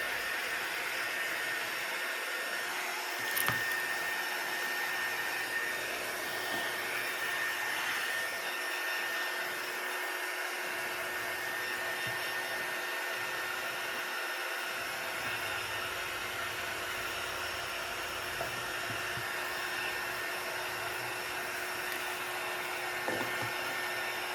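A hair dryer blows steadily on a craft project for about twenty-four seconds, a constant close whooshing roar with no talk over it.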